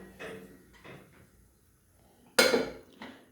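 A pot of water is set on a gas stove in a home kitchen, giving a few separate metallic clanks and knocks. The loudest is a sharp clatter near the end, with quiet gaps between and no voices.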